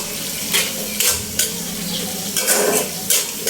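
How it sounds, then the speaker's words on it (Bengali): Spice masala for liver curry fries in a pan while a spoon stirs it, giving a loud steady sizzle broken by about half a dozen bright scraping strokes against the pan. "এখন মশলাটা আমি ভালোভাবে কষিয়ে নেব"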